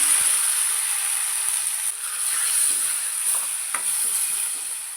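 Soft, steady sizzling of leaves and spices sautéing in hot oil, with a few faint clicks of stirring, no talking.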